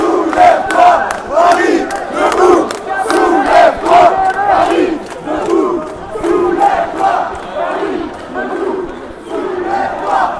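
A large crowd of protesters at Place de la République in Paris, at a night gathering, chants and shouts in rhythmic bursts, loud and close, with voices swelling and falling together in repeated waves.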